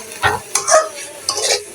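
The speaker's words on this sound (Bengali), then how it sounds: "তো এইভাবে শাকগুলোকে ভালো করে মিশিয়ে নিতে হবে" A few short scrapes and knocks of a spatula stirring greens with potatoes in a pan, three close, distinct strokes over a faint background sizzle.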